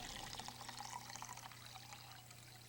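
Water pouring steadily into a basin, a close, continuous splashing trickle that stays even for a couple of seconds with no voices.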